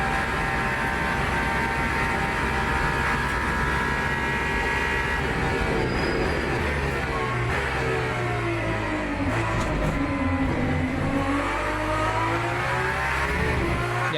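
A race car in a racing video game rumbles and drones steadily as a worn, bald tire vibrates, with a continuous low engine and road roar held throughout.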